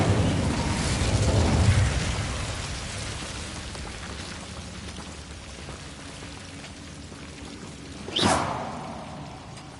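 A fire spell cast in the video game Hogwarts Legacy: a sudden loud whooshing burst near the end stands out from a steady rain-like crackling wash that fills the whole scene.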